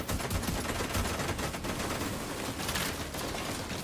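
Automatic gunfire in The Division 2, a continuous, dense rattle of rapid shots filling the whole stretch at steady loudness, with no voices over it.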